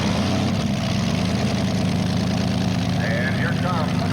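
A heavily modified pulling tractor engine rumbles steadily at a tractor pull, its deep low drone continuous beneath an announcer talking over a public address system.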